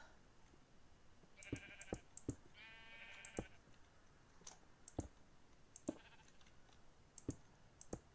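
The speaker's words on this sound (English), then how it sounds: "Oh, it's a sheep." A video game sheep bleats in a short wavering cry amid quiet, evenly spaced clicks, faint overall and with no talking.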